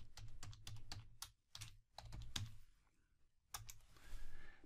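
Someone types on a computer keyboard nearby, tapping out short bursts of keystrokes with brief pauses between them in a quiet room.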